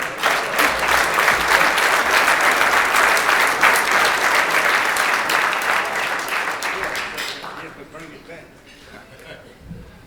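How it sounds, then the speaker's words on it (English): Audience at a hall of fame enshrinement applauding a lawyer, David Wyatt, with loud, dense clapping from a large crowd that fades over the last few seconds to scattered claps and quiet room noise. "Let's give a round of applause for David Wyatt."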